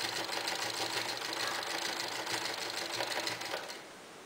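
A sewing machine runs steadily, stitching together strips of an old saree into a floor rug, its rapid, even mechanical chatter close and continuous before easing off at the end.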